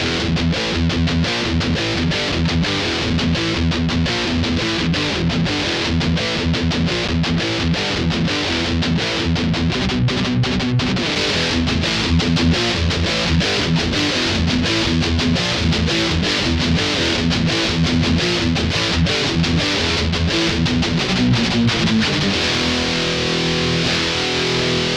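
An electric guitar played through a Tech 21 Fly Rig PL1 on its overdrive channel, loud, continuously distorted riffing with chugging chords running unbroken throughout.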